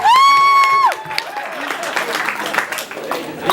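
A comedy show audience claps and murmurs at moderate volume after a brief, loud sustained tone, with scattered applause continuing in the room.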